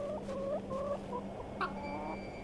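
A hen clucks in The Excavation of Hob's Barrow video game, a few short warbling clucks in quick succession over a quiet low hum, followed by a brief chirp.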